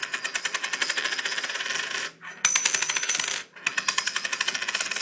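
Scrap silver coins dropped in quick succession, producing bright metallic clinks and rattles in three bursts separated by short pauses, close and alone with no talking.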